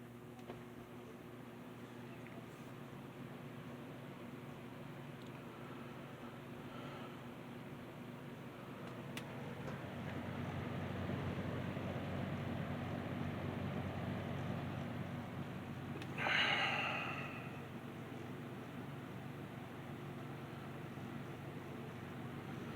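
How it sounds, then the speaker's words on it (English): Lasko 20-inch box fan running on its low setting, a steady, soft broadband whoosh with a faint hum that swells slightly midway, with a brief brighter click or rattle near the end. "I think I'll go ahead and I'll start it up on the low speed first."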